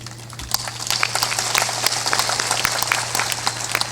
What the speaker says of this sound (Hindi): ताली थोड़ा जोर से बजाया करो।